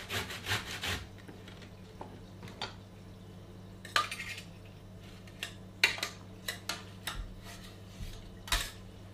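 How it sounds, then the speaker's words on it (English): Fresh ginger is rubbed over a grater in short scraping bursts with pauses between them, close and fairly crisp over a faint hum, with no talking. "I'm going to grate into that some fresh ginger"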